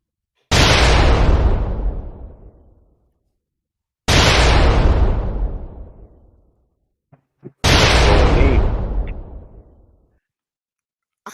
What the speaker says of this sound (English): Drop a bomb on them.